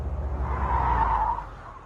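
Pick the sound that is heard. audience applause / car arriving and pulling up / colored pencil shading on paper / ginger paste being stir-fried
car arriving and pulling up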